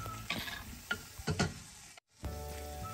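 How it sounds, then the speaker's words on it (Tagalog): Leftover ground beef sizzles in butter and minced garlic in a pan for beef quesadillas, with a steady fry crackle broken by a few sharp stirring scrapes and a brief cut in the sound. "I-recook lang natin sa butter and minced garlic."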